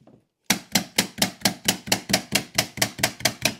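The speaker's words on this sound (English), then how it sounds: "We'll use the electric staple gun to put this entire piece in." An electric staple gun fires repeatedly into carpet on a stair tread, about a dozen sharp, evenly spaced snaps in quick succession, loud and close with no talk.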